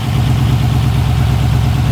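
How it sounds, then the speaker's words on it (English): A Coyote V8 swapped into a 2014 Ford GT500, fitted with a Magnuson 2650 twin-inlet supercharger, idles steadily up close with a deep, even, rumbling burble and no voices. "Idling nice."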